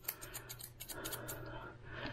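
Dog grooming scissors snip through fur in a run of quick, crisp cuts, several close metallic snips in the first part followed by softer rubbing, all faint and quiet with no voices.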